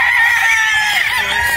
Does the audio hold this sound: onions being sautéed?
no